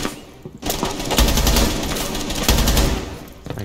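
Rapid gunfire in Rainbow Six Siege, a dense, loud burst of automatic shots with sharp repeated cracks sustained for most of the moment, with no talking over it.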